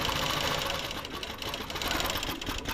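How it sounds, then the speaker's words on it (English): A sewing machine stitches with a fast, steady mechanical whir and rapid needle clatter, close and continuous throughout, with no talk. "this is how Esther May is stitching"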